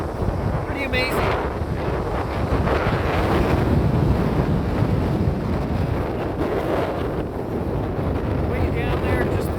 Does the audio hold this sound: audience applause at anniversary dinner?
no